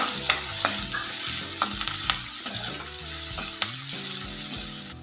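Onion with asafoetida frying in a pan for a home-style chickpea curry: a steady sizzle with regular scraping stirs of a spoon, close and continuous, and no voices.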